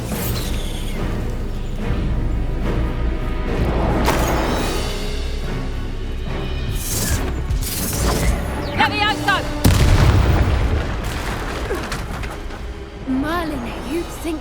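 A Bombarda explosion spell cast in the Hogwarts Legacy video game, a booming blast that swells out of a dense, continuous bed of spell effects, whooshes and game music, with a voice calling spell names over the action.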